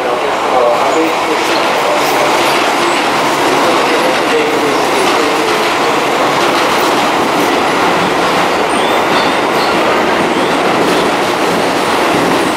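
A Keio Line 9000 series train pulls into Shimotakaido station with a loud, continuous rumble, wheel clatter and roar filling the platform, while station announcements or voices run underneath.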